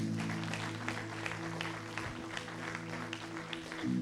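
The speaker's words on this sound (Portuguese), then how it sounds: "Aplauda o Senhor por isso." Congregation applause at a Brazilian evangelical church service, a steady wash of clapping held through the whole stretch under sustained organ or keyboard chords, with no speech over it.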